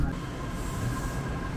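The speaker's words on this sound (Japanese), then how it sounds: "乗車してきたコスモスクエア駅の3番 A 系電車を見送ります" Rumbling rail noise of an Osaka Metro Chuo Line 400 series train pulling away from underground Morinomiya Station, a steady low roar with metallic rattles, moderately loud and with no one speaking.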